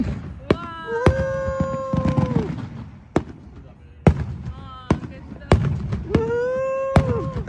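Fourth of July fireworks burst in a series of sharp booms at irregular intervals, some followed by whistling, crackling trails, while people cheer and chatter nearby.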